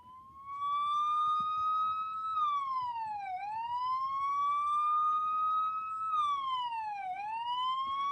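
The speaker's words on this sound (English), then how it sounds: "But that's the old Magnum siren." A DNR Magnum police siren wails steadily, rising and falling in long slow sweeps, loud and continuous with faint background rumble.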